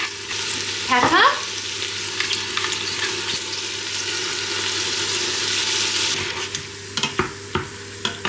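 Minced meat browning with olive oil in a pan, a constant sizzle broken by an early scrape and several sharp utensil knocks toward the end, with no talking.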